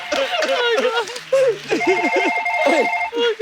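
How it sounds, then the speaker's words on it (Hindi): An electronic phone ringtone plays in sustained tones while people keep talking over it on a comedy show stage. "सर मेरे को फोन आया, मैं उठा सकते हैं क्या है?"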